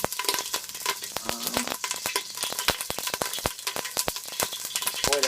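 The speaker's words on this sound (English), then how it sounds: "bear fat starting to heat up in the pan" Steady, busy sizzling of bear fat frying in a pan, with irregular pops and spits throughout, close and fairly loud.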